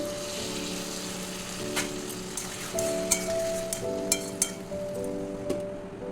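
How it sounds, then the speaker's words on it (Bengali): Potatoes, spices and long beans frying in a pan with a splash of water, sizzling steadily beneath sharp clinks of a metal utensil against the pan, close by, with no talk. "ভালো করে কষে নিতে হবে অল্প জল দিয়ে দিচ্ছি"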